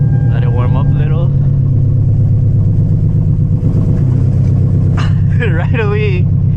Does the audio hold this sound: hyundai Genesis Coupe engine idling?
yes